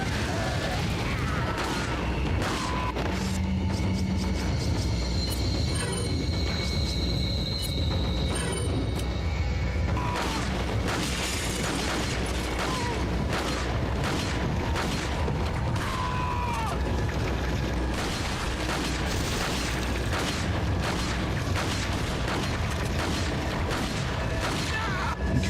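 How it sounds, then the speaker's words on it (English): Incendiary grenades go off in Resident Evil 4, and the booms and crackling bursts pile into a dense, loud, continuous roar of explosions and flames that lasts throughout. "I didn't even think about our incendiary grenades."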